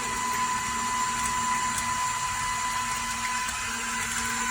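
An electric mixer whisks batter for Alsace ham and cheese bread, giving a steady high-pitched motor whine with a constant hum throughout and no pauses.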